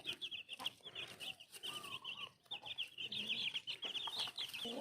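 Black chickens on a small farm in Phetchabun, Thailand, cluck and chatter in a busy, overlapping stream of short calls, fairly close and quiet, with a few longer drawn-out notes among them.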